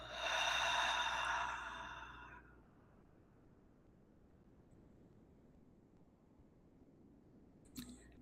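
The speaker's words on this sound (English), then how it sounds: "Inhale deep. Exhale, go." A single deep, breathy exhale during a guided breathing exercise, loud and close for about two seconds before trailing into near silence.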